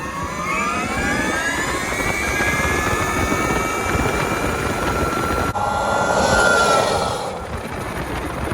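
A KTM Freeride trike's engine drones loudly and steadily with rising and falling whine, tires spinning; the pitch surges briefly near the end before easing off.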